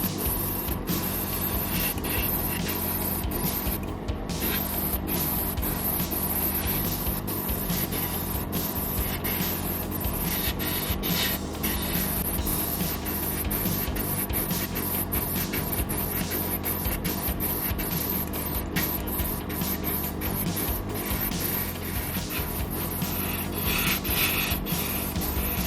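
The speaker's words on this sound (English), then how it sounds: "Spray so that the surface becomes moist and wet." A steady hiss of fine airbrush spray applying clear coat to a 1/24 scale Dodge Challenger 1973 model kit continues without pause, soft and close, with faint mechanical rubbing underneath and no voices.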